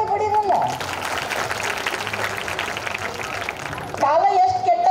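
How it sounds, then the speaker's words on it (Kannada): An audience claps in a steady wash of applause lasting about three seconds, framed by someone speaking over a microphone before and after. "ಒಂದು ಚಪ್ಪಾಳೆ ಬಡಿರಲ್ಲ."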